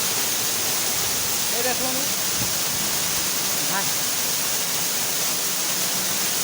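Asurajhola waterfall pours down in a steady, loud, broadband roar of falling water that fills the whole stretch, with a voice briefly speaking over it.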